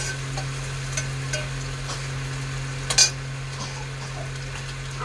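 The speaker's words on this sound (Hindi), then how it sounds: "आज मैं भगोने में सब्जी बना रही हूँ।" Vegetable curry cooking in a pot, a steady low sizzle of frying under occasional scrapes and clinks of a spoon stirring, with a constant hum behind it.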